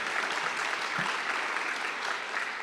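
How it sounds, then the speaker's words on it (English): Steady applause from a large community college audience on opening day, an even wash of many hands clapping at a moderate distance, uninterrupted throughout. "Give yourself a round of applause"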